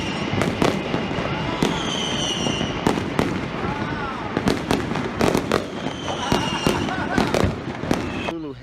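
Loud New Year's aerial fireworks over Honolulu: rapid overlapping bangs and crackle with rising whistles from rockets, a steady barrage of close and distant blasts.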